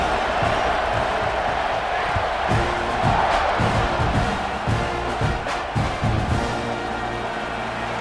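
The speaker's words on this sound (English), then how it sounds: "this crowd is buzzing after that last score" A stadium crowd in EA Sports College Football 26 roars and buzzes continuously after a touchdown, a dense wash of cheering with a voice talking over it.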